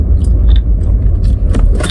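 A car driving along, heard as a loud, steady low road-and-engine rumble that fills the whole clip, with a few light jingling clicks on top.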